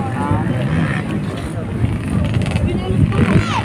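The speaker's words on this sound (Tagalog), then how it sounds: "Palipad mga motor." Motocross motorcycles ride at a practice track near a house in San Isidro, Montalban, Rizal, a steady loud engine drone with rising whines from passing bikes, and a person talking over it.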